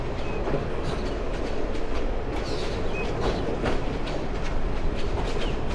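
Chattogram University shuttle train slowing as it moves from the main line onto a loop line near Fatehabad, heard from onboard as a steady loud rumble with rhythmic clickety-clack of wheels over joints and faint squeals.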